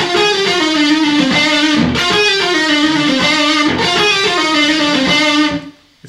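Neoclassical electric guitar lick with heavy distortion, a fast melodic run with quick string shifts played alone and loud at a steady level before it cuts off abruptly at the end.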